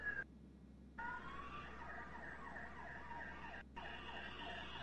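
An ambulance siren wails in the video game GTA 5, a steady repeating electronic siren with brief cut-outs, heard alone at a low level.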